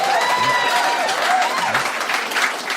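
A stand-up comedy audience claps and cheers in sustained applause, with a voice talking over the crowd noise.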